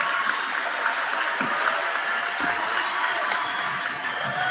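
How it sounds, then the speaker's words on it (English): Steady applause from the crowd at a high school commencement in Homer, honouring graduates; a dense continuous patter of many hands clapping, without voices over it. "Your applause are needed."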